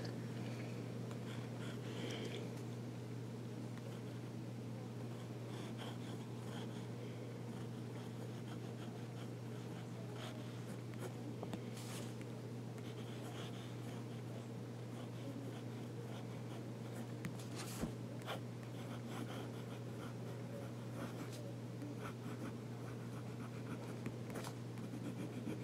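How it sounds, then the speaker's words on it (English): A vintage Diplomat Classic fountain pen scratches softly across paper in short strokes, very faint and close, over a steady low hum with no talk. "we're going to do some writing with this pen"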